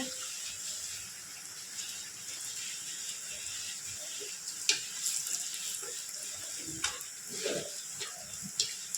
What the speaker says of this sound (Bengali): বাবা এখন চপ ভাজছে।